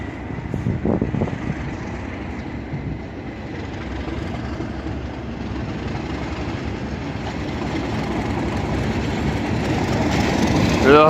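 Class 37 diesel locomotive 37601 of Rail Operations Group, in Europhoenix livery and running as a light engine, pulls away from Crewe with a low diesel drone that slowly builds in loudness, and faint voices are audible early on.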